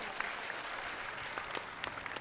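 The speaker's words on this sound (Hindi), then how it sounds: "वाह, ताली बजाओ।" Audience applause at a Bageshwar Dham religious gathering, a steady broad wash of clapping with scattered sharper claps, sustained and fairly even throughout without pauses.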